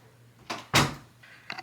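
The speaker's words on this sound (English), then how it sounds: "I'm shutting the door again." An indoor door is pushed shut: a soft scrape, then one sharp, close bang, followed by a faint click and quiet room tone.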